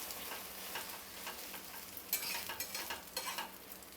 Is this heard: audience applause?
no